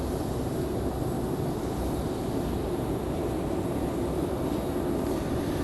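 JetBlue airliner departing Raleigh-Durham International for Boston, a loud continuous jet engine roar, steady and broadband throughout, with no speech.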